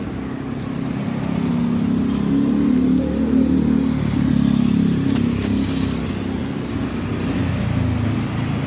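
A motorized tricycle engine drones steadily on a road for several seconds, loud and close, with a rough rumbling tone and no talking over it.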